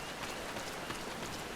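Steady rain falls at night in a forest area of Final Fantasy XIV, a dense, even patter of drops with no other sounds.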